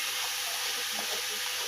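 Water poured from a cup into peanuts and jaggery for sweet peanut balls, a steady rushing hiss and splash that runs unbroken and fairly close.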